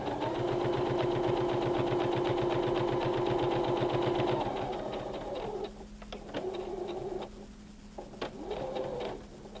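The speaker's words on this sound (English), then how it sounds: "we're going to stitch pieces 1 and 2 together" A sewing machine stitches placemat fabric pieces together with a rapid, even rhythmic chatter for about four seconds, followed by quieter clicks and handling noises as the stitching stops.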